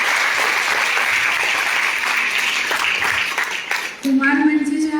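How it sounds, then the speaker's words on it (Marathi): Children give loud, sustained applause at a youth music stage programme, a dense clatter of many hands that fades toward the end as a voice and a tonal sound take over. "जोरदार टाळ्या मुलांच्या."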